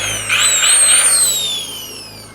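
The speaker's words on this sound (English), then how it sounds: "so pumped about this grinder. Look at this beast." Old grinder running up to speed, a high whining motor tone rising then slowly falling as it spins down, loud and close with no talk.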